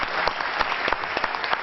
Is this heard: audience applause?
yes